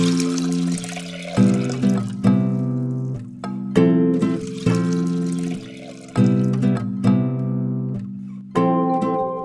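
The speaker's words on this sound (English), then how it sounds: "place your pot or saucepan on the stovetop over medium-high heat and fill it with the water" Water is poured into a pot or saucepan on a stovetop in a series of bursts, each splash starting sharply and ringing with a hollow metallic tone before fading, repeated about eight times.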